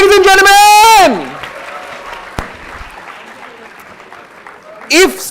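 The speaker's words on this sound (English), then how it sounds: "can we have a huge round of applause for Ariman, ladies and gentlemen?" An audience at a business conclave claps, a moderate spread of applause between an excited voice calling out at the start and again at the end.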